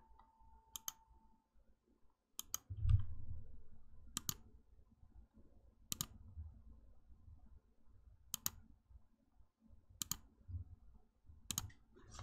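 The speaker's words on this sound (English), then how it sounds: "the mouse click makes about the same sound every time you click it" Sharp mouse clicks repeat at a steady, unhurried pace, about one every second and a half, each crisp and close, over a faint low rumble.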